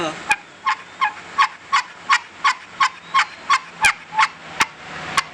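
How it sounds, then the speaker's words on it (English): Kenney's Baby Bigmouth all-wood turkey call played as a gobbler yelp, a close, even series of about fourteen sharp raspy notes in a steady rhythm, sounding alone. "Now I think this does a great gobbler yelp."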